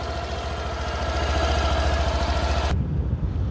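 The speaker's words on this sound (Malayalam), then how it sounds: "അപ്പോൾ എഞ്ചിൻ സൗണ്ട് നല്ല കോൺസ്റ്റൻ്റ് ആയിട്ടുണ്ട്" Up close, a Suzuki Burgman 125 scooter engine idles on fresh Castrol Power1 Ultimate 5W40 fully synthetic oil, a steady, even low throb that cuts off abruptly near the end, leaving a quieter rumble.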